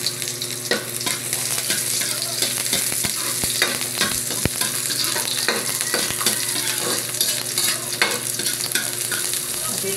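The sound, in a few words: sautéing bopis in garlic and onion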